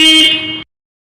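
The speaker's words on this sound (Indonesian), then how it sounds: "tinggal kita tekan saklarnya, klakson harus berbunyi" A car horn sounds once when its switch is pressed on a freshly wired horn circuit, a loud, steady, bright honk lasting just over half a second and then cutting off abruptly into silence.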